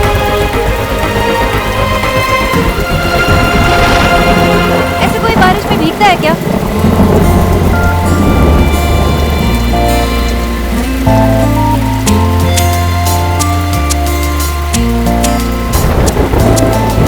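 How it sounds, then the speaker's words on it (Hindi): Rain falls steadily outside as a continuous broadband hiss, mixed beneath a dramatic music score, with no distinct thunderclap standing out. "बाहर बारिश भी हो रही हो।"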